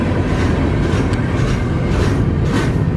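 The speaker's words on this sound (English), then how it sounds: "there wasn't even really a rideable car on this train at the end of the day." A freight train rolls along rails in New England, a loud, steady, close rumble and rattle of wheels on track with no voices.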